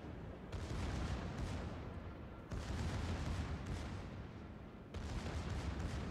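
Heavy artillery and gunfire roar through a video game battle in loud, sustained bursts, with sharp new blasts at roughly two-second intervals over a continuous rumbling wash.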